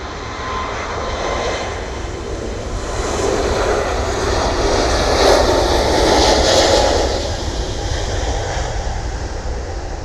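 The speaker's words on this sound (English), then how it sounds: "We have got something landing behind him, a prop." A propeller plane lands at Manchester airport, its steady engine drone swelling and then easing as it passes at moderate distance, with no voices.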